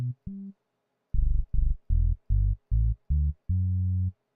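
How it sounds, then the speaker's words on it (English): Low sine-wave test tone from Logic played as a series of short bass notes, two brief blips then six rhythmic pulses and a longer final one, clean and loud with silence between, no talk. "that sounds like a test program sine wave, not exactly 808 bass"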